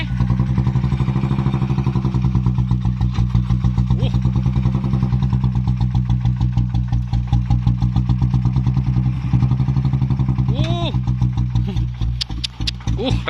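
A tractor engine in Thailand runs steadily close by, a loud continuous mid-pitched rumble with throbbing pulses, with occasional whines and a brief rise in revs near the end.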